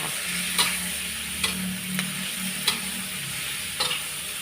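Bell peppers and chicken giblets stir-fry in a pan with a steady, close sizzle, broken by light spatula scrapes and taps every second or so, with no talking.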